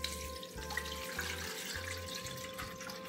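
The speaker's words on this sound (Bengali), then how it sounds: "দুধটা এবার ছেঁকে নিচ্ছি।" Milk for date palm jaggery payesh trickles through a strainer, a soft, steady pouring sound with faint bumps close by and no talking.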